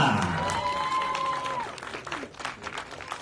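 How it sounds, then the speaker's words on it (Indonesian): A crowd at a film premiere press conference applauds to welcome a cast member, the clapping running beneath a voice with a tonal, stretched sound early on and continuing more raggedly afterward. "kita berikan tepuk tangan yang luar biasa"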